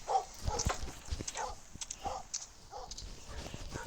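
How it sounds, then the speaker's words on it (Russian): A dog barks in repeated short yaps, fairly close, in a house with footsteps and some movement around it, the barks coming every half second or so across the stretch. "Да хватит гавкать."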